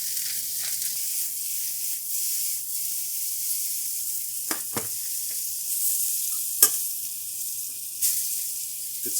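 Vegetables sizzle steadily in hot fat in a second pan, a soft continuous frying hiss with a few brief louder spits and clatters partway through.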